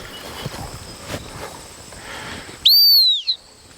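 A sharp, loud dog training whistle blast with a bent, sliding pitch cuts in abruptly after a stretch of quiet outdoor background noise, then fades, during gun dog training.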